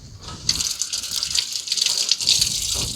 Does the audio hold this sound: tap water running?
yes